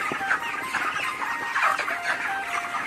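Chickens in a poultry flock suffering heat stress cluck in short, overlapping bursts, close and fairly steady throughout, with no voices.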